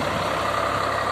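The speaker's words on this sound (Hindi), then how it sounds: "आप ट्रैक्टर लेजर चलाइए" A tractor pulling a laser land leveler across a sugarcane field gives a steady, dense engine drone that holds even throughout, with no talk.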